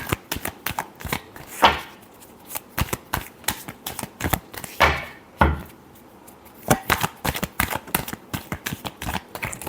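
Tarot cards being shuffled by hand, quick crisp riffling clicks and flutters in rapid uneven bursts, with a few louder riffles, close up and without any voice.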